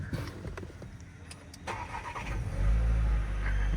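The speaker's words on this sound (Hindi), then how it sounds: "ये कुछ कोल्ड स्टार्ट में आवाज़ आएगी आपको।" A Skoda Slavia 1.5 DSG cranks over in a cold start, a brief clicking whirr of the starter before the engine catches and settles into a loud, steady low idle, close by and without speech.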